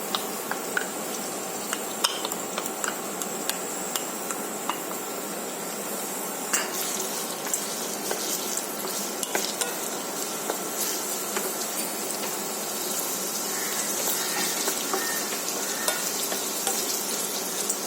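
Chopped onions fry in a pan for Goan prawn ambotic, giving a loud, continuous hissing sizzle punctuated by frequent small clicks and stirring taps throughout, with no one talking.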